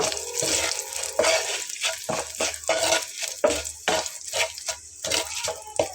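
Whole spices fry lightly in hot oil for a vegetarian aloo potol dish: bay leaf, dried chillies, cardamom, cinnamon, cloves and cumin seeds. A close, crackling sizzle comes in bursts with repeated stirring scrapes of a spoon, without talk.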